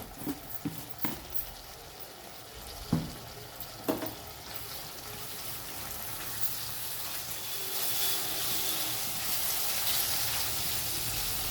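Ginger garlic paste fries in a pan, with a few sharp clinks and taps early on, then a steady sizzle that swells toward the end, close and soft, with no voices.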